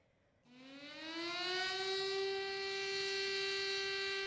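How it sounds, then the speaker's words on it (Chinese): An air raid warning siren sounds at the Nanjing Massacre memorial ceremony, starting abruptly after a brief quiet and rising into a steady, sustained wail that holds loud and alone with no talk. "警报鸣响，全场向南京大屠杀死难者默哀"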